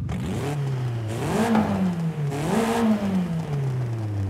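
An MG MG7 engine with a loud race exhaust in Forza Horizon 5 revs up twice in rising, then falling sweeps, droning steadily throughout with no talking.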